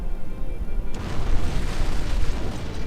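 A booming explosion from an antimatter charge set off aboard a ship in the video game Halo CE, a loud, sustained rumbling blast that swells after a sharp onset and keeps roaring without any talk.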